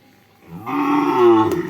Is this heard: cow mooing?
yes